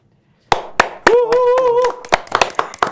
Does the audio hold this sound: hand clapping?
yes